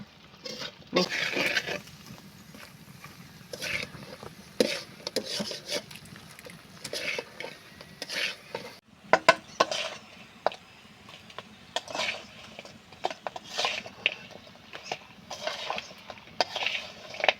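A spoon stirs and scrapes through sugar syrup and crunchy kotkoti snack in a pan, producing repeated irregular scraping and clinking strokes at close range, fairly soft, with no talking.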